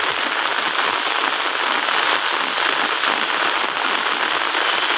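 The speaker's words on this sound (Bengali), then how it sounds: "মোটামুটি খুব বৃষ্টি পড়তেছে, হালকা বাতাস হইতেছে।" Heavy morning rain pours steadily with a light wind, a dense, continuous loud hiss of drops on surfaces and a street, unbroken throughout with no voices.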